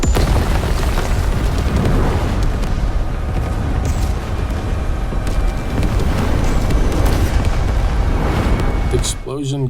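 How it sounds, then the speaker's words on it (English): A heavy explosion in the sci-fi horror game The Callisto Protocol unleashes a sustained roaring, crumbling rumble with scattered debris bursts, loud and dense throughout before cutting off abruptly at the end. "The explosion causes Jacob and Danny to end up in an old mining colony"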